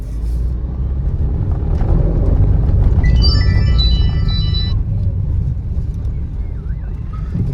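Cars queue on the road up to a parking area near a shrine, giving a close, steady engine and wind rumble; a brief tonal horn-like note sounds midway, and a faint voice is heard.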